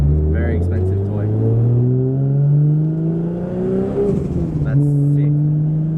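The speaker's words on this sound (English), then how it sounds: "How good does that sound, guys? Can you just hear it whistling?" Turbocharged 2JZ engine in a Nissan S15 Silvia revs up with rising tonal harmonics and a turbo whistle, loud and close, while someone speaks briefly over it.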